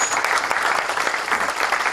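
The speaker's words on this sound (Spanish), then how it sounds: "un aplauso y vamos por ello" An audience at a talk on restaurant management claps in steady, close applause, a dense patter of many hands that lasts throughout without any voices.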